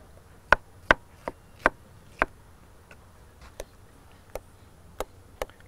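Strawberries chopped with a knife on a cutting board, a series of sharp, irregular knocks: about five loud chops close together, then sparser, fainter taps over a quiet kitchen background with no talking.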